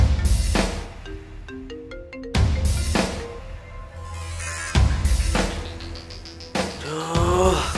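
A mobile phone rings with an incoming call, a melodic ringtone of short rising tone patterns heard in bursts amid loud, dramatic background music and impacts.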